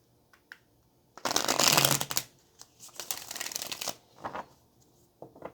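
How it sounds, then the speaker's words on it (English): Tarot cards riffle in a quick, crisp shuffle, followed by a second softer shuffle and a few scattered taps, close up with no talking. "All right, let's do one more shuffle."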